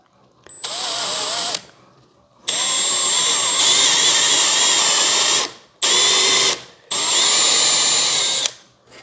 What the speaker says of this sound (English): we're gonna pre-drill it everywhere